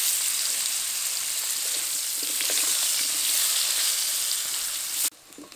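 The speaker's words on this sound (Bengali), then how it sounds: "মাছ ভাজা তেলের মধ্যে কাঁচা কলাগুলো দিয়ে ভেজে নেব।" Raw plantain slices fry in oil already used for frying fish, giving a steady loud crackling sizzle close by that cuts off abruptly to near silence just before the end.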